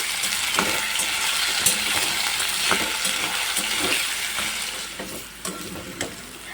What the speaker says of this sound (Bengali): লবণ হলুদ দিয়ে এবার নাড়াচাড়া করবো